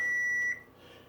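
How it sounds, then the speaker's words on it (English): A kitchen timer gives one steady, high, pure electronic beep about half a second long, then stops, leaving quiet room noise. "timer's about ready to go off"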